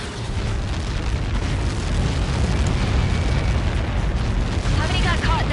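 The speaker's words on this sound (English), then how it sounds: "How many got caught in that explosion?" A massive explosion in the combat flight game Ace Combat 7, a dense, loud roaring blast that rumbles steadily without letup for several seconds.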